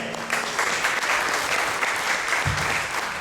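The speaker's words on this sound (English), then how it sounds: "Let's hear it for Nathaniel Darnell" A convention audience applauds a speaker being introduced, dense steady clapping from a large crowd filling the room throughout, fairly loud and even with no voices over it.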